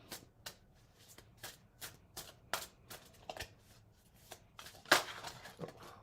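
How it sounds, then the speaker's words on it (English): A deck of playing cards is shuffled in a series of quick riffles and snaps, a dozen or so crisp bursts at an uneven rhythm, close and fairly quiet. "I could say it's bad shuffling"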